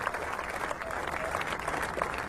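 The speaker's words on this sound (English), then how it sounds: "Warm applause for Sachin Tendulkar." A cricket crowd at Trent Bridge during an England versus India Test match gives warm applause for the batsman Sachin Tendulkar, a dense, steady patter of clapping from many spectators throughout.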